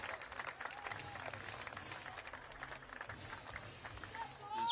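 A crowd at a 2023 TYR Pro Swim Series final in Fort Lauderdale, applauding and cheering for the men's 200 backstroke A final. Dense, steady clapping and crowd noise fill the clip, with occasional whistles near the end.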